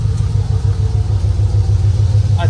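Steady, close low rumble of a car idling after its fuel pump was fixed. The engine hum stays even throughout, and a faint short click comes near the end.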